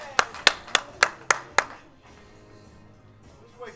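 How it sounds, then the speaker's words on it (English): At a women's pool challenge match, a few hands give six sharp, evenly spaced claps that carry clearly in a quiet hall. The clapping then stops and the room goes still. "Don't be afraid to applaud."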